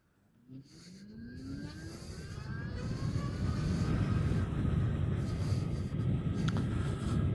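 A 2024 Zero SR electric motorcycle pulls away on a test ride, its motor whine climbing steadily in pitch as rushing wind noise builds and stays loud to the end.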